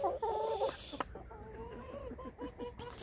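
Rooster kept with hens, giving a run of clucks and short calls up close. A loud burst opens the sequence, followed by quicker, choppy clucking notes, with no talk.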